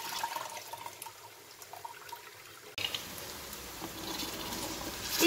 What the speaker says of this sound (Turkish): Nohutumun suyunu süzüyorum. Tekrar sudan geçiriyorum.